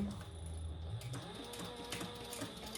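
A sewing machine stitches along the side of a fabric eyeglass case, a quiet, close mechanical whir with small clicks and ticks, alone and without talk.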